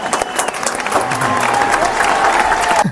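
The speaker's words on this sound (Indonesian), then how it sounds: "Tepuk tangan dulu dong semuanya." A podcast audience claps along, a steady wash of hand claps at close range for a few seconds, with a voice talking over it.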